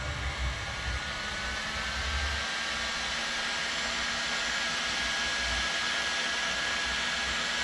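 A heat gun fitted with a narrow nozzle blows a steady, loud airy roar while heating a diesel injector in the cylinder head of a 2L HDi DW10 engine, with a low hum underneath and no pauses.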